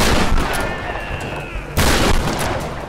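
Shotgun blasts in Tomb Raider: Definitive Edition's shantytown fighting, loud and sharp, with one heavy boom near the end over a dense, noisy game-combat background and faint ringing tones.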